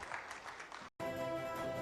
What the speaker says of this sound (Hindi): एक बार जोरदार तालियां इनके लिए यहां पर हो जाए.